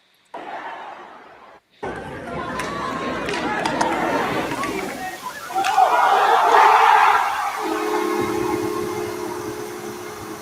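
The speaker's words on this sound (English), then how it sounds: "Good crowd, good cheer." Hockey arena crowd cheering after Jackson Smith's goal, a loud sustained roar of many voices swelling and fading with a shrill whistle-like tone on top, alone without nearby talk.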